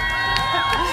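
Crowd cheering and shouting for a panelist at a democracy forum, a loud sustained roar of voices with whoops rising through the whole second.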